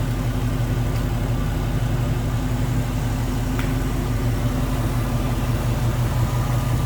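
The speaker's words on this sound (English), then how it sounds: "You can see smooth running engine too." A 1969 Ford Mustang Mach 1 idles steadily up close, a smooth, even low rumble with no revving and no voices.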